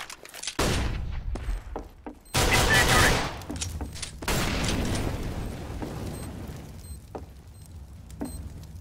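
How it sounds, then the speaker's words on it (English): Flashbang grenade going off in a first-person shooter round, right after a bomb plant: loud bursting blasts around two and four seconds, with gunfire-like pops and crackle around them. "Throwing a flashbang."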